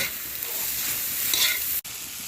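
Bamboo shoots and egg are stir-fried in a hot pan and seasoned with sugar and fish sauce, making a loud, close, continuous sizzle with a brief break near the end.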